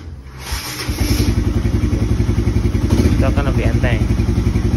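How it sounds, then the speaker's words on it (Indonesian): A Honda CB150R motorcycle is started on its electric starter, giving a short cranking catch before the engine settles into a loud, steady close-up idle with a rapid regular pulse; a voice speaks over it. "Kalau kita starter nih, elektrik starter nih"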